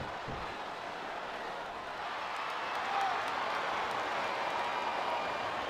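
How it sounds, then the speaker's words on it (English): A big indoor arena crowd in the wrestling video game WWE SmackDown vs. Raw roars steadily, a dense wash of cheering and noise that swells slightly midway and carries on without a break. "This capacity crowd is making their opinions known tonight."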